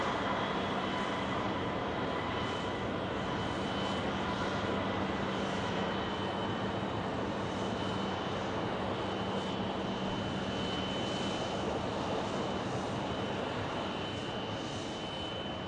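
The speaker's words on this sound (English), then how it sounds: "there's our ATI arriving from Cincinnati" An ATI cargo aircraft arriving from Cincinnati at Phoenix Sky Harbor rumbles with a long, steady engine roar and a thin high whine, holding at moderate loudness throughout with no voices heard.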